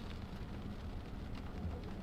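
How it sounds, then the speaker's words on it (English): Steady rain and gusting wind from a thunderstorm in the Chicagoland area, a constant faint hiss and low rumble with no talk. "a lot of rain and wind. That's called a thunderstorm."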